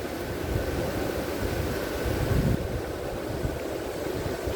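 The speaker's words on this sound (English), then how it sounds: "that's a lot of raging water" Rushing mountain creek water roars steadily close by, a dense continuous churn with a brief louder surge midway and no talking.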